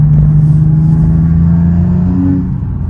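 Nissan 370Z with a full exhaust holding a loud, close, steady low engine drone with rumbling harmonics, then a rising rev toward the end before the tone eases off.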